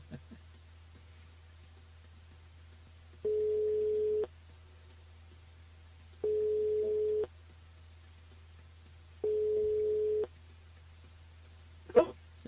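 Telephone ringback tone while a radio host calls a listener on a mobile phone during a live broadcast: three steady one-second tones about two seconds apart over a low line hum, then a click as the call connects.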